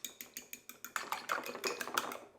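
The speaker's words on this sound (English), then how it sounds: "And then we'll just give this a whisk" Eggs whisked with salt and pepper in a bowl, a fast run of sharp, regular metallic ticks that grows denser and busier partway through, close up and moderately quiet with no talking.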